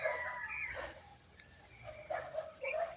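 A chicken or rooster calls out in a forest, giving a few separate crowing and clucking phrases that are moderately loud and not too distant, with quiet pauses between them.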